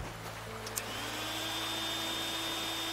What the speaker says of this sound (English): That's vacuuming up the sand right now.